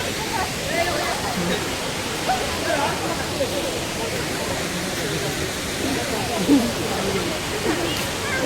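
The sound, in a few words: Devkund waterfall roaring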